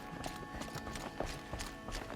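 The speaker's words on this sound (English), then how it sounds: "This is a mountain goat." Mountain goat hooves clop on the ground in Horizon Zero Dawn's Frozen Wilds expansion, giving a series of fairly close, irregular hoof steps over a soft game ambience.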